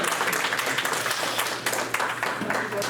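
An audience claps for the speakers at a community meeting about making Port Jervis a sunflower city, a short burst of scattered applause with voices mixed in.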